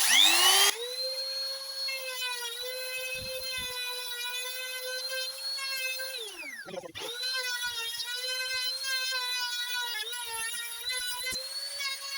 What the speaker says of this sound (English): So we're using a router to do it.